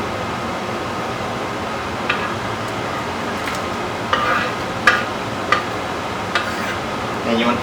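Onions sizzle in melted butter in a pan, a steady soft frying hiss with a few sharp clinks and taps of a utensil scattered through it, no voices over it.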